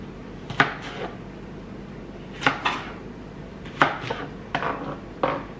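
A knife chopping zucchini into small pieces on a board, a handful of sharp, separate knocks in uneven pairs and singles with quiet gaps between them, near and clear, with no talking.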